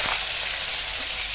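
Cumin, mustard seeds, curry leaves and dried red chilli hitting about two spoons of hot oil in a kadhai, a loud, dense, continuous sizzle heard up close with no voices.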